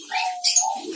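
Diamond doves kept in a cage give one short, soft coo at close range, with a faint high chirp near its middle.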